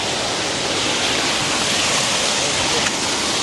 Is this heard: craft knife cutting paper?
no